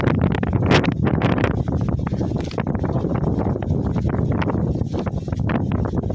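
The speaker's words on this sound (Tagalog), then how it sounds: "dito pala sa sudad kini hangin na. Bagyo na." Strong typhoon gusts roar and buffet the microphone continuously, a loud rushing wind with rustling throughout.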